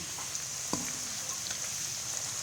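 Steady, bright sizzling of pork frying in hot oil with makhwaen pepper and herbs, a constant crackling hiss with one faint clink of a utensil.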